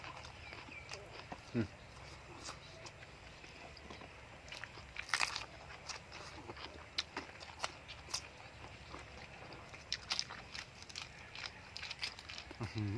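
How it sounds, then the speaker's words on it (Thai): Someone bites and chews crunchy cucumber eaten with Northern Thai pork sausage and chili dip, making repeated close, crisp crunches over a steady background while a person talks. "แตงมันนี่กรอบจริง"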